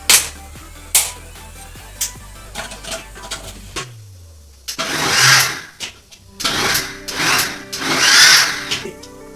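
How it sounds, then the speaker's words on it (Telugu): A kitchen mixer grinder blends rice with water: a few clicks and knocks, then several pulsed bursts of whirring motor roar, close and loud, each stopping briefly before the next. "కొంచెం బియ్యం వాటర్ వేసేసి మిక్సీ పెట్టేసుకున్నాం"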